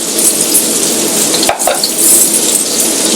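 Onion and garlic sizzle in a hot pan for beef goulash, a steady bright hiss that runs throughout, broken once by a short clatter of a utensil against the pan.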